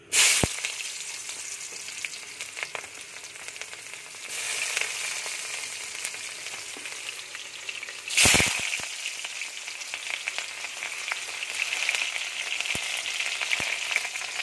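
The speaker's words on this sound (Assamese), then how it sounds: "আৰু পিঁয়াজ দুইফালে মই ৰঙচুৱা হ'বলৈ দিম।" Onions fry in hot oil in a wok (kerahi), giving a close, steady sizzle throughout with occasional louder bursts and scrape-like stirring sounds, without any talking.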